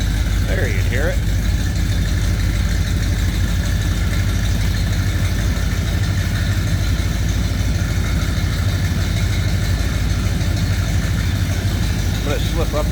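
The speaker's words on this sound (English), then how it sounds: "Nice deep throaty exhaust note." A 1955 Ford F100 truck engine idles steadily with a deep, throaty exhaust note throughout, a low rumble holding constant with faint background noise.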